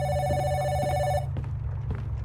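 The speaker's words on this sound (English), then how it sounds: "Oh, the phone is ringing." In a horror video game, a telephone bell rings loudly for about a second and then cuts off, leaving a low background hum and a few faint knocks.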